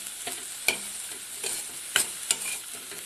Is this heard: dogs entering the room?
no